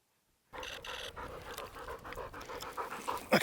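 A hunting dog pants close by after retrieving a partridge on an Idaho chukar and Hungarian partridge hunt, with steady rapid breaths and a few sharper sounds near the end.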